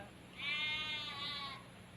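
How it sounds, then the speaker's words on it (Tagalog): A sheep on a farm gives one sustained, wavering bleat of about a second, clear and fairly close. A steady background hum runs under it and no one speaks. "So, eto yung mga tupa."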